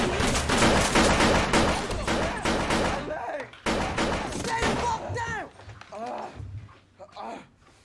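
Gunfire from a TV drama scene in The Wire, rapid bursts of shots with music and dialogue layered over them, loud and dense before thinning into scattered bangs.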